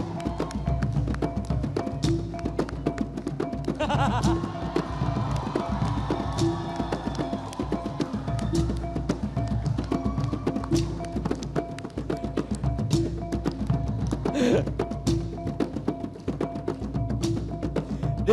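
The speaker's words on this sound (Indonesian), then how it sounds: "tepukan gemuruh untuk inang-inang istana" A theatre audience at a Malay musical performance applauds, producing dense, sustained clapping that stays steady and loud throughout, with a faint crowd murmur and no clear speech.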